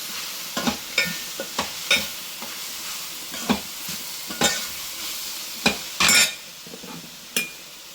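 A vegetable mixture with soy sauce being stirred in a pan over a low sizzle, with a dozen or so distinct, irregular scraping and clanking strokes of a spoon against metal, close and clear.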